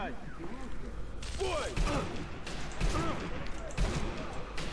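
Rifle fire in the video game Sniper Elite V2, several sharp shot bursts spaced about a second apart, heard amid game sounds and mixed with a player talking.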